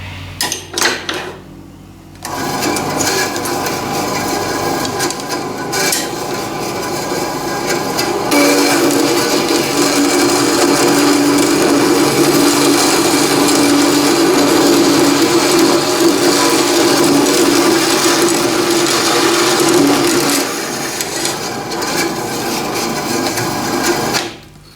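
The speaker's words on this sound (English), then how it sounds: "I guess you want to see this thing and how it performs on the bandsaw." A metal-cutting bandsaw runs through a workpiece in a workshop, a loud continuous mechanical whir and grinding rasp that holds steady for about twenty seconds, starting and stopping abruptly, with no talk.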